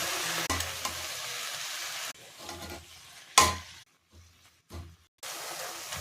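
Drumstick leaves tossed with softened onions in a pan, giving bursts of stirring and sizzling broken by quiet gaps and a sharp clatter partway through.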